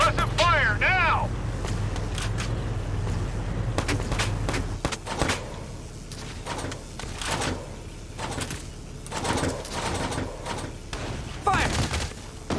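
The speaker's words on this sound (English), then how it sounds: "We need suppressive fire now." Suppressive gunfire rattles in Valkyria Chronicles 4, bursts of shots crackling over a low battlefield rumble, with game voices shouting between the volleys.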